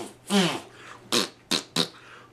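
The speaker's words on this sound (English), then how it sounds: "somebody in like a sound booth was literally blowing into their hand and making fart noises for these creatures" Wet fart noises for the dirt monster creatures in the 1986 horror film Spookies, made by a person blowing into a hand: four separate blurts, one long and three shorter, loud and close.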